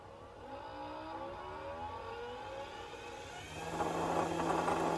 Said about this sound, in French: je vais brancher un petit moteur de drone, et avec ce potentiomètre, je vais faire varier la tension qui commande ce moteur